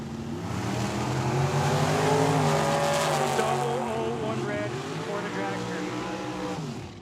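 Drag racing cars at Tucson Dragway roar off the line, a loud engine howl that climbs and then falls in pitch as the cars pull away, fading near the end.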